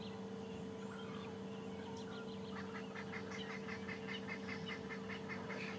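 Oxpeckers give thin chee calls overhead on a morning safari drive at Djuma Game Reserve, a rapid series of faint, high chirps rising over a constant low engine hum.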